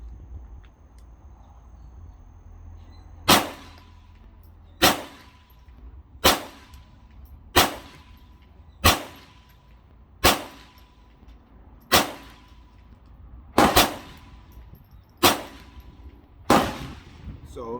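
Ten sharp, snappy shots from a GSG 1911 .22 pistol at an outdoor range, fired one at a time at a steady pace of roughly one every second and a half, with a low background hum between shots.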